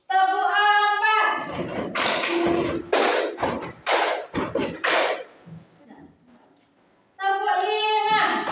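Children's rhythmic hand-clapping game during a classroom clapping chant: a series of sharp, roughly evenly spaced claps in the middle, with tonal singing or chanting before and after.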